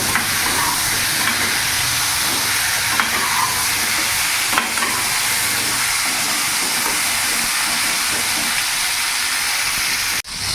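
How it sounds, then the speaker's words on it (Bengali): Pointed gourd is stir-fried in a pan with a loud, continuous sizzle and occasional sharp clicks of the spatula, stopping abruptly at the end. "পটলগুলো আমি দিয়ে দেবো। ভালো করে আমি নাড়াচাড়া করে ভেজে নেবো।"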